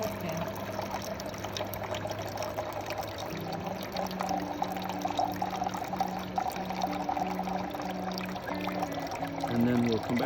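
Water pours steadily into a small camping pan outdoors, a continuous close splash and trickle with a faint tonal hum running beneath it.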